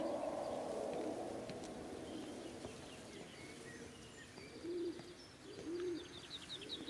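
Birds in The Rapture video game coo softly in a faint outdoor ambience, a few low dove-like calls repeating with light chirps and a quiet hiss.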